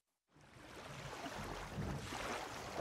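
A boat crosses the open sea in a cartoon, with waves washing around it. After a brief silence, a steady broadband wash of water and wind swells up and carries on without a break, with no voices.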